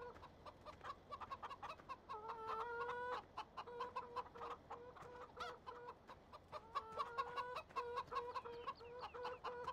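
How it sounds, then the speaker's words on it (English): A rooster in the Farming Simulator 17 video game clucking softly and repeatedly in short rhythmic bursts with a few drawn-out calls, faint and steady, with no talking. "Shut up, rooster."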